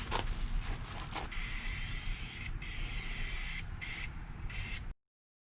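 A spray can coats the bottom surfaces of a 1992 Johnson 25 hp outboard motor with ultra flat paint, a steady close hiss broken by short bursts and pauses, then abruptly cut off.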